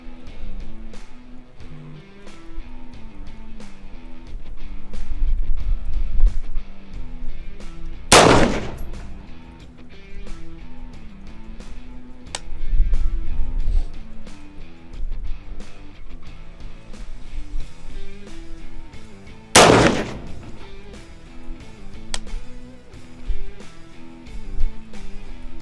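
Two sharp rifle shots from a zeroing session, spaced about eleven seconds apart, loud and cracking over a quiet backdrop with faint musical tones in between.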